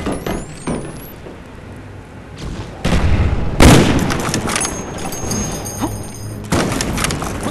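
A B-52 airstrike bomb explodes in a video game, a loud deep boom near the middle followed by rumbling, amid other heavy thuds and distant game noise.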